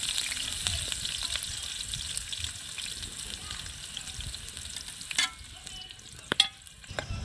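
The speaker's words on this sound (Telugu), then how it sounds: "ఉల్లిగడ్డలు వేయాలి" Onions dropped into hot oil for chicken curry fry with a steady, close sizzle and the scrape of stirring, with a few sharper crackles and clatters near the end.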